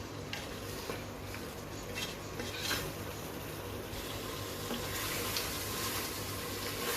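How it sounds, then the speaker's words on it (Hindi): Meat fries in masala for haleem, a faint, even sizzle running steadily throughout with no distinct stirring strokes. "तीन से 5 मिनट तक हमने इसको मसाले में अच्छी तरह गोश्त को भूनना है"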